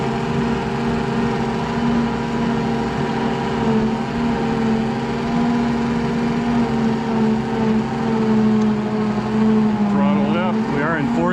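A 48-volt electric tractor drives steadily in fourth gear on the low setting, giving a continuous loud hum and whine that holds level for the whole stretch and rises slightly near the end as the throttle comes up.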